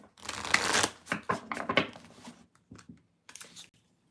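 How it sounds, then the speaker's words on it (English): Tarot cards are shuffled by hand in bursts of riffling and clicking, with short pauses between runs, close and fairly quiet and with no talk. "I'm going to shuffle and then we'll move on to Pisces."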